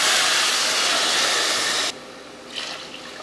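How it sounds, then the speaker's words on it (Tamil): Water pours in a steady rushing stream into a pot of rice for about two seconds, then stops, leaving a few faint splashes and drips. "இதில் தான் இப்போ தண்ணி சேர்க்க போகிறோம்."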